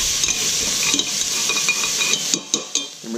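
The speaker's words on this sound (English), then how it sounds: "So we're just going to give it a quick saute to get the flavor to come up." Ingredients for spaghetti sauce sauté in a hot pan with a steady bright sizzle, punctuated by light utensil scrapes and several clear knocks near the end; close and loud, with no talk.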